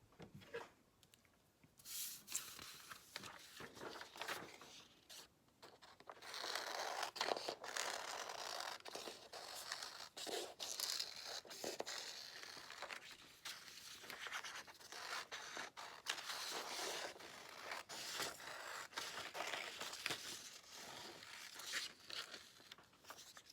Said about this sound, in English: My next job is to cut out those shapes.